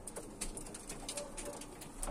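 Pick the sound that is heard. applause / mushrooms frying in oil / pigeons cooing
pigeons cooing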